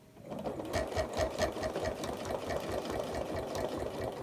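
A sewing machine stitching an apple core quilt runner with ruler fan quilting, its needle running in a fast, even mechanical rhythm with a humming motor, close and steady throughout, no talking.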